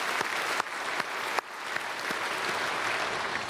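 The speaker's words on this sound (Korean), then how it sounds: "우리 찬양대에게 큰 박수 보내겠습니다" Steady audience applause for a church choir at a Sunday service, with sharp individual claps standing out, a room full of people clapping continuously throughout.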